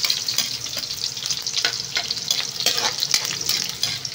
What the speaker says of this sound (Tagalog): Lalagyan natin yung sibuyas. Halo-halo.